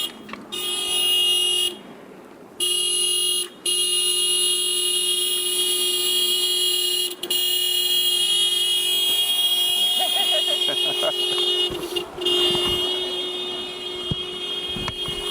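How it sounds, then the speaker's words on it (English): A loud, sustained horn blares continuously with brief cutoffs, joined by a pulsing alarm-like tone and background commotion, with people talking underneath. "we're getting ready to be run over by the by the horn vehicle"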